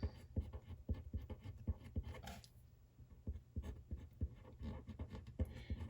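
A pen writes in a Classic Happy Planner, up close and quiet, giving a steady run of small scratchy strokes and taps with a brief lull partway through and no talking.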